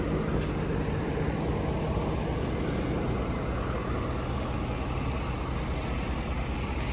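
A 2016 Ford F350 King Ranch with a 6.7 Powerstroke diesel runs at a steady idle, a low continuous rumble close to the microphone with no talking.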